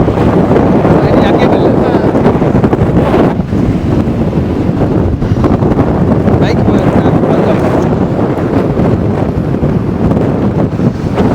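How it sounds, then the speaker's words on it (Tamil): Strong wind buffets the microphone steadily at a beach, giving a loud, continuous roar with gusty surges and no clear voices. "பயங்கர காத்து"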